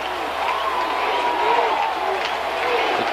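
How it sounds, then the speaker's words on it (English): Football crowd in the Astrodome chanting during a 1999 Texas 4A-II high school quarterfinal, a steady dense roar of many voices with rising and falling chant tones, continuous and fairly loud throughout. "The crowd chanting defense."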